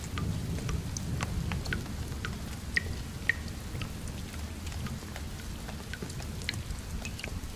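Indoors during a heavy rainstorm, water leaks through and drips, with scattered sharp drops and plinks over a steady low rumble of rain and no voices.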